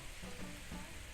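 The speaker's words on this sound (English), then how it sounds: "So the rice cakes is being cooked in a seasoned sauce" Rice cakes simmer in a seasoned sauce for gungjung-tteokbokki, giving a soft steady sizzle and bubbling that runs throughout, faint and close.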